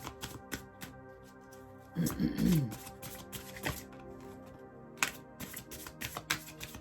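Tarot cards being shuffled in a quiet room, with soft papery riffles and flicks scattered throughout and a slightly louder burst of shuffling near the middle.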